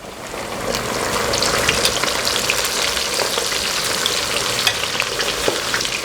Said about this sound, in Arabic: راح ننزلها بالزيت الحامي، يكون يعني حار الزيت